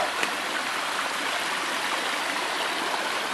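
Water pours steadily over a beaver dam in Trinidad, Colorado, a dense, continuous rushing wash heard close and unbroken, with no voices.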